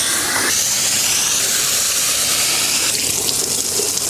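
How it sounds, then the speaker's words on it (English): A garden hose sprays water hard through the dirty, long-neglected coil of an outdoor AC condensing unit, a loud continuous hissing gush with the spray pattern shifting twice, no voices. "spraying the water through the bottom, how restricted it is"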